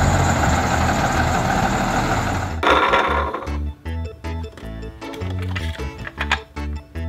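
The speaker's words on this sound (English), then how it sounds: "Yo, school bus." A school bus engine idles with a steady low rumble, then shifts into a choppier, pulsing drone partway through. It stays fairly loud and close, with no talking.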